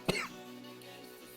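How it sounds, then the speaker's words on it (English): One sharp cough right up against the microphone, then quiet room tone. "I didn't mean to cough in the mic."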